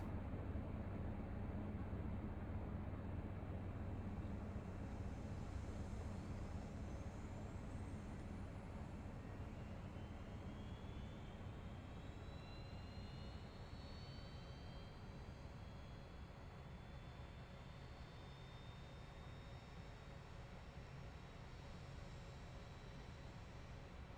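A jet engine spools up in the X-Plane 10 flight simulator: a steady, quiet broadband roar with thin rising whines that build slowly over the start sequence, no talk.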